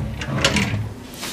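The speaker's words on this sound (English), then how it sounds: "May mga drawer." A wooden drawer in a wood-furnished hotel room slides open or shut, a short close scraping rumble lasting about a second.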